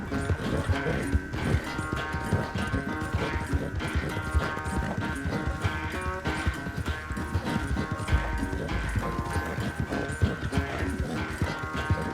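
Continuous rapid hoofbeats of a galloping horse in Red Dead Redemption 2 pound steadily throughout, mixed with dense game sound effects and music.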